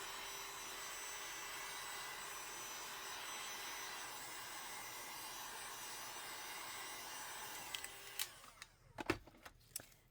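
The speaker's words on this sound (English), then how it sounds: "I'm going to run my heat gun through here." A heat gun blows over epoxy resin in a mold, giving a steady airy whoosh at low level that cuts off near the end, followed by a few sharp clicks and knocks.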